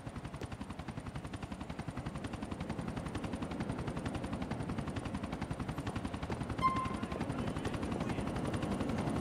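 A helicopter in the video game Grand Theft Auto IV, its rotor chopping in a steady rapid pulse throughout, loud and close, with a brief tonal blip partway through.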